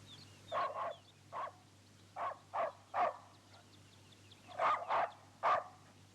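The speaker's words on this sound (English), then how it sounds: "Once again, an off-screen sound, the dog barking, reminds viewers of their limited perception of the world." An off-screen dog in a film barks in short bursts, several paired and single barks spread over a few seconds at moderate distance, with a steady low hum underneath and no talk.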